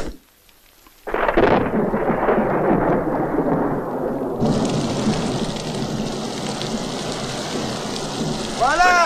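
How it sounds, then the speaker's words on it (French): Rain bursts in after a moment of near silence and quickly turns into a steady, heavy downpour, with low rumbling thunder rolling underneath and the rain growing denser partway through. "Et il commence à pleuvoir."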